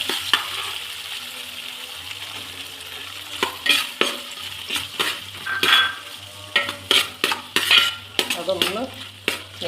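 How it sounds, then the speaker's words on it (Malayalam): Chopped tender coconut pieces sizzle gently in a pan for payasam while a spoon stirs and scrapes in quick irregular strokes, close and fairly quiet. "ഇനി ഇതിലോട്ട് നമുക്ക് കരിക്കിട്ട് കൊടുക്കാം"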